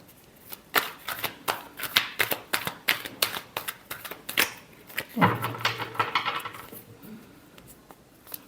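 Tarot cards shuffled by hand, a rapid run of crisp riffling flicks and slaps, close and clear, followed by a softer sliding shuffle near the end.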